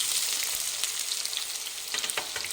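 Onion fries in hot oil for a bitter gourd gojju, a close, steady crackling sizzle with bursts of sharper spitting and occasional stirring, alone without any voices.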